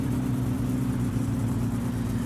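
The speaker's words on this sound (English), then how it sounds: "I'm revving the engine too high" A car engine in the driving game My Summer Car revs steadily high in the mid range, a continuous loud droning hum with no letup and no voices.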